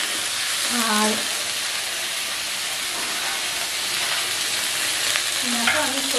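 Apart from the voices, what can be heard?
cauliflower frying in oil with turmeric in a wok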